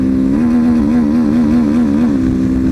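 A Honda XRE 190 motorcycle fitted with a BMW 310 exhaust runs on a street, its engine note steady, loud and close with a slight rhythmic wobble, alone with no talking.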